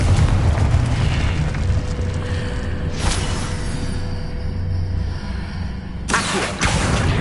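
Confringo fire spell blasts in the video game Hogwarts Legacy, booming explosions with fiery rumble that swell and crash in a loud continuous barrage, with sharp bursts around the middle and near the end.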